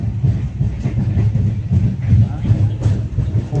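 Train carriage interior with a steady low rumble of running wheels and rail noise, continuous and fairly loud, with people talking over it.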